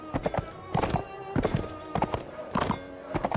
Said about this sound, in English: So let's get back on my horse. My heavy sumpter horse.